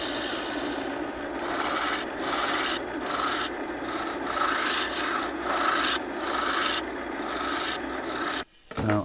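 Lathe tool facing off a wooden segmented bowl, a continuous raspy scraping at close range with brief pauses and a sharp cutoff near the end, no voices.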